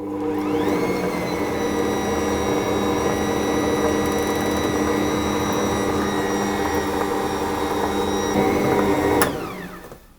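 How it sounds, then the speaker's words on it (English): An Ankarsrum stand mixer mixes a stiff cream cheese loaf cake batter with sugar, its motor giving a loud, steady whirring hum that runs continuously up close, then shuts off near the end. "I'm going to mix those until I have a nice stiff batter basically"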